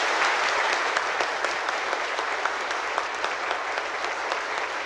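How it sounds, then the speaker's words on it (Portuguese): A crowd gives a long standing ovation to former mayor Francisco Carlos Benetti after his speech, steady dense applause with no voices over it. "Aplaudido mais uma vez de pé"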